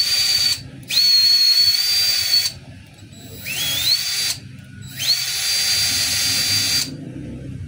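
A DeWalt DCD710 12V cordless drill whirs at high speed in three bursts with short pauses between, the motor whine rising as it spins up, loud and close.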